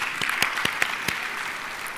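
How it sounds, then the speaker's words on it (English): Applause from an audience at a professional institute gathering honouring a newly elected vice president, a handful of sharp, separate claps over a soft background wash that thins out toward the end. "Please have a big round of applause."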